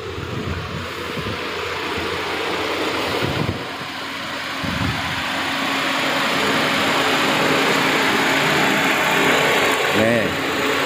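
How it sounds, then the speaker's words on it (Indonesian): A 2001 DOHC car engine idles steadily at a low, even hum, heard from the open engine bay amid broad background noise and a few knocks. "untuk mesin mobil yang satu ini benar-benar sangat halus, sehat, siap pakai ya"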